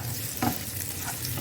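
Samosa filling fries and sizzles in a pan while being stirred, a soft steady hiss with a couple of brief scraping strokes, no voices.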